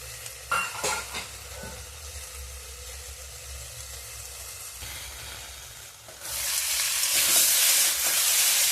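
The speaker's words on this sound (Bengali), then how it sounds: "তো মাঝে মাঝে আমি চাপাটা খুলে একটু নেড়ে দিচ্ছি।" Potato and eggplant curry is stirred in a frying pan, with a spatula scraping and a steady sizzle, then a louder hissing burst of frying near the end; close and with no talk.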